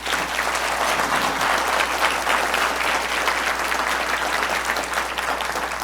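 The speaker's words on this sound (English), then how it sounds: "He deserves a round of applause." At a closing celebration, an audience claps in a loud, dense, steady round of applause that carries on throughout.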